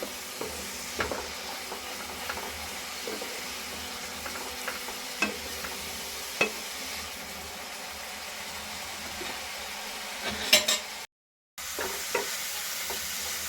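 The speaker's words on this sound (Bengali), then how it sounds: "পেঁয়াজটা একটুখানি ভেজে নেবো ভালো করে তেলের সঙ্গে" Onions frying in oil in a pan for a Bengali egg and potato curry, a quiet, steady sizzle with occasional clicks of stirring, alone without talk, cut by a brief gap of silence near the end.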